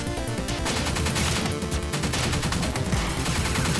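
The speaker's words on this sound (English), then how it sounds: "Holy crap, there's a lot of explosions." Dense, rapid gunfire and crackling explosions from the action shooter game Pineapple Smash Crew, loud and continuous with overlapping bursts throughout.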